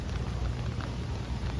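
Steady rain falls in a New York City street, a dense continuous hiss and patter at even loudness throughout the short moment, with no voices.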